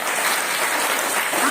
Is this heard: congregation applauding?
yes